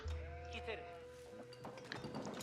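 Game sheep in Age of Empires IV give a short bleat and a few faint follow-up calls under someone speaking French over the game audio.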